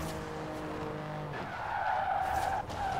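A car drifts in Forza Horizon 4, its engine holding a steady drone before a long, loud tire skid squeals in and sustains to the end, briefly dipping once.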